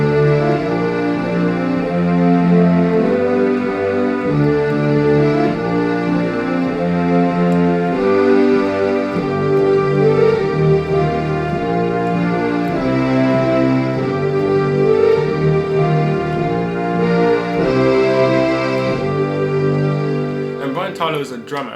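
A 2018 drum-driven composition plays loud and continuous for about twenty seconds with dense, layered tones and a steady driving pulse throughout.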